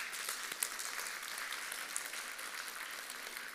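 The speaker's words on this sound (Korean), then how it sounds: "우리 성가대를 위해서, 찬양팀을 위해서 우리 한번 격려의 박수 한번 해주시면 좋을 것 같아요" A church congregation applauds the choir and worship team during a service, a soft, even wash of clapping heard from a distance, low in level throughout.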